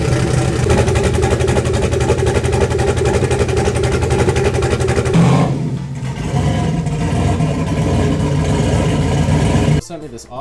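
A car engine runs loud and close as the car is moved, a steady rumbling drone that softens and shifts midway, then cuts off abruptly near the end.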